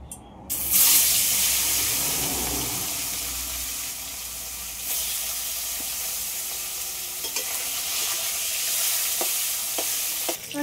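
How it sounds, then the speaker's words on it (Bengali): Fish frying in hot oil in a home kitchen, a loud continuous sizzle that flares sharply at the start as the pieces go in, then holds steady with occasional clinks of a utensil. "মাছ ভাজার জন্য তেল গরম হয়ে গেছে, এবার মাছ ভেজে নেব।"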